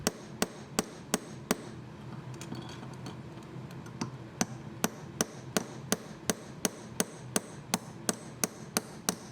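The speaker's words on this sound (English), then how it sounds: "You'll notice here that I'm hammering them just a little bit extra." A hammer strikes wire rivet heads in a regular series of sharp metallic taps, about two per second with a short pause partway, close and loud with no talk.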